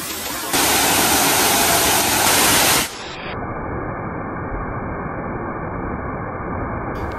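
The Curug Sumuran waterfall in the hidden Rockland valley roars loud and broad, then drops abruptly to a softer, steady rush of falling water that continues to the end, with no voices.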